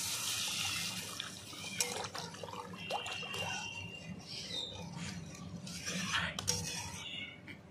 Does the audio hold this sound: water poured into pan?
yes